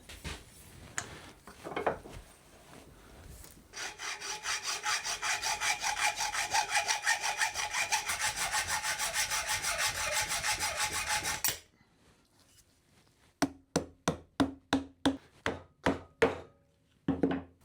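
A hand saw cuts a 12 mm tube axle to length for a wheeled dolly: scattered scrapes, then about eight seconds of fast continuous rasping strokes, a pause, and a run of slower, distinct strokes.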